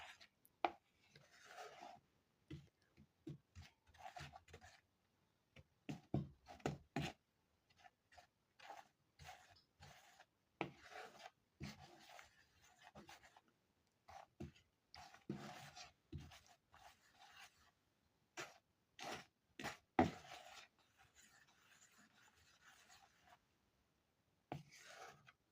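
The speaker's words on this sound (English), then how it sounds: "So mix this in until it is all combined." Dark chocolate cake batter being mixed by hand in a bowl, with scraping, rasping strokes in irregular bursts and short pauses between them, close and fairly quiet, with no talking.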